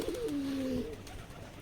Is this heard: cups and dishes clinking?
no